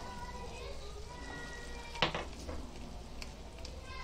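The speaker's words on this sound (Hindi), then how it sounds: "अभी थोड़ा सा पानी डालेंगे, अच्छे से मिक्स करेंगे" Water poured into a hot pan hisses in a sudden sizzling burst, then settles into a softer crackle as the contents are stirred, with faint voices in the background.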